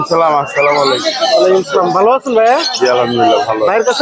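A talking myna at the Mirpur 1 bird market in Dhaka calls up close with loud, chattering, speech-like phrases that run almost without pause.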